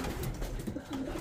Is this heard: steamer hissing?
no